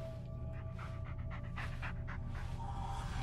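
Bullet the dog pants steadily and close in Blair Witch, a quick rhythmic run of breathy huffs over a constant low background hum.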